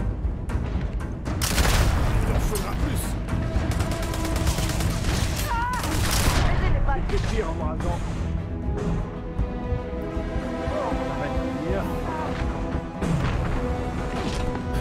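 Bursts of gunfire and booming impacts from a Starfield space-shooter firefight crackle in rapid volleys, loud and close, with scattered crashes and faint game sounds between shots.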